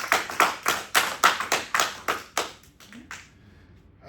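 A church congregation applauding in rhythmic, evenly spaced unison claps that fade out after about three seconds, loud and close.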